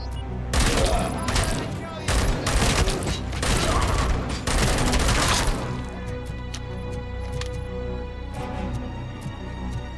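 Gunfire from the video game Robocop: Rogue City, with loud bursts of rapid shots and cracks packed into the first half, then a quieter stretch of lingering game sound.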